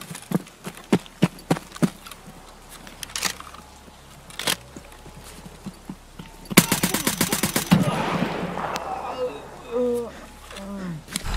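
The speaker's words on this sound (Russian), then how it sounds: "Перед смертью выстрелил." Gunfire in the shooter game Escape from Tarkov: scattered single shots early on, then a rapid automatic burst, followed by shuffling movement and brief tonal game sounds, with a voice talking at times.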